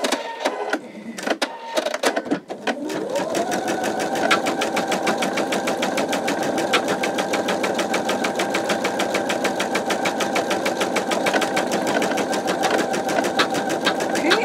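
A Pfaff Creative 4.0 sewing machine stitches out embroidery letters with a steady, fast mechanical whirr and rapid needle clatter. A few clunks sound as it starts, then it runs loud and even without pause.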